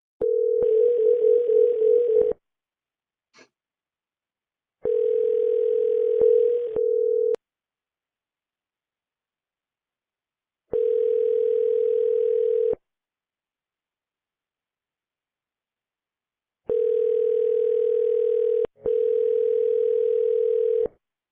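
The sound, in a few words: telephone dial tone while calling a cell number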